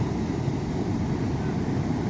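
A boat engine runs steadily on a rough sea with big waves, giving a dense, continuous low rumble mixed with wind and water noise throughout.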